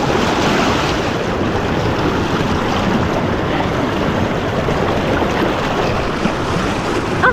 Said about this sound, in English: I'm at the river now, it's a bit noisy.